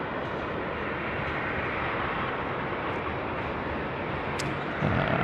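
A jet taxiing at night at Sydney Airport, turning onto a taxiway after leaving the freight apron, gives a steady distant roar and whine that holds even and unbroken for several seconds.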